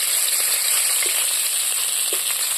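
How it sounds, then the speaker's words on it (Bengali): Bata fish fry in hot oil, making a steady, even sizzling hiss at close range with a couple of faint pops and no talking. "আর এক পর্ব দেখো মাছ ভাজা হচ্ছে"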